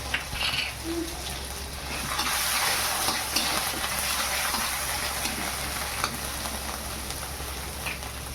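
Cumin, chili paste, garlic and sliced curry leaves fry in hot oil in a pan for a potato bhaji, giving a steady, fairly close sizzle that swells after the first couple of seconds and stays even throughout.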